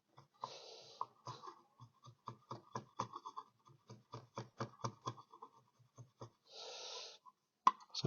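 A wooden cog clock edge sanded by hand across the grain, making short, rhythmic scratchy strokes with brief gaps and a couple of longer rubbing passes, fairly quiet and close.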